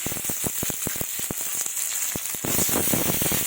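Chopped potato and eggplant added to lightly fried onions in a hot pan, a busy crackling sizzle with rapid pops and spits that swells louder and fuller partway through.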